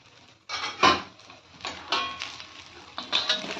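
Cooked jeera rice being stirred together with a bowlful of coriander in a pot, giving a few scraping, clattering spoon-on-metal strokes in bursts, fairly close and with no talking.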